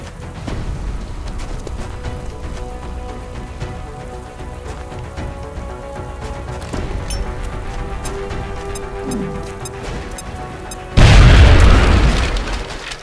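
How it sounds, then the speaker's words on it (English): A grenade goes off in XCOM: Enemy Within, a loud, close burst arriving after a long stretch of quiet game ambience and lingering briefly before the clip ends. "Now toss your grenade at the enemy in front of you."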